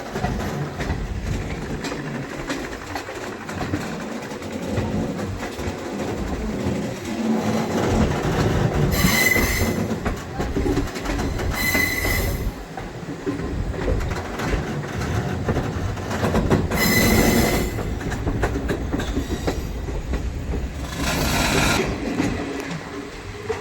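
A passenger train on the Silchar to New Haflong railway runs steadily toward New Haflong station, with continuous rumble and wheel clatter and several brief bright squeals or hisses rising over it.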